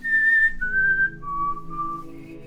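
A person whistles the opening of a theme from Final Fantasy IV, a clear, loud melodic line stepping down through a few sustained notes, solo and close.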